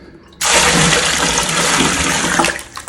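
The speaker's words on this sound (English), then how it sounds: "I can add water to it, more fresh water" Fresh water poured from a container into a bucket of plaster mix, a loud steady splashing gush lasting over two seconds before tapering off, with no voices.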